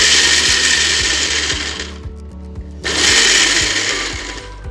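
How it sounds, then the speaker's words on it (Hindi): A mixer grinder coarsely blitzes tamarind chutney in loud whirring bursts, stopping briefly for about a second before starting again with the same harsh, steady roar. "अब हम इसे ग्राइंड करेंगे, मगर हमें इसे ज़्यादा ग्राइंड नहीं करना है"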